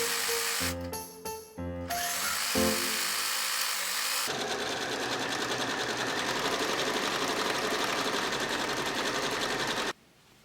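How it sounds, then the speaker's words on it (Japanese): Sewing machine running steadily as it stitches around folded fabric scraps, near and loud, after a few short start-stop bursts, continuous whirring stitching for about six seconds before stopping abruptly. "半分に外表に折ってぐるりと縫おう。"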